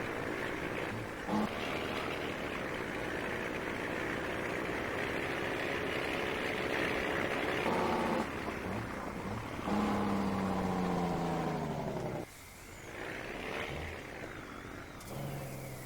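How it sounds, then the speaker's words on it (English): A tractor engine in Farming Simulator 19 runs steadily with a low droning rumble and a few shifts in pitch, like changes in load or throttle, moderately loud with no talking. "I wonder what kind of engine this is supposed to be. Kind of sounds a little bit like a Cummins"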